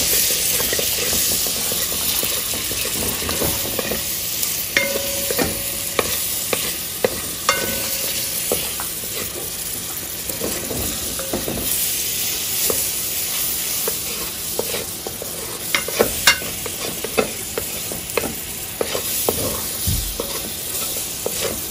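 Butter melts into a hot pan in a continuous crackling sizzle, with scattered sharp pops and spits over a steady hiss that keeps going for the whole stretch.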